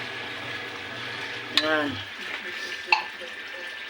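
Water is poured into a hot pot of sardines and cabbage, giving a steady sizzling wash with a couple of sharp splashes and clinks, while a voice speaks briefly nearby.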